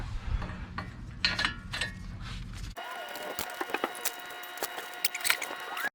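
A ratchet clicks in quick, uneven strokes on 18mm front hub bolts of a 2004 Ford F150 V8 4WD, up close in a garage, after a brief low mechanical hum.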